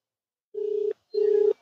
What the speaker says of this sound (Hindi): पूरा रिंग हो रहा है